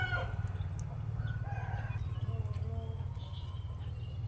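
Chickens in a home garden, with a rooster crowing near the start and hens clucking steadily over a low continuous hum, fairly faint and without talk.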